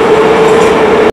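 A metro train in Baku, Azerbaijan, rumbles loudly and steadily with a droning hum, heard close from inside the carriage for about a second before cutting off.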